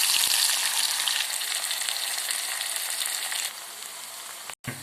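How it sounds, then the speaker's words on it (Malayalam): Ivy gourd (kovakka) pieces deep-frying in hot oil give off a dense, steady sizzle that stays loud throughout, easing slightly near the end, with no voices. "എണ്ണയിലിട്ട് വറുത്ത് കോരുവാൻ പോകുകയാണ്"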